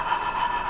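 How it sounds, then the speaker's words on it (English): Engine valves are lapped by hand against their seats, a close, loud, continuous gritty rubbing and grinding with a steady abrasive texture. "I love lapping valves."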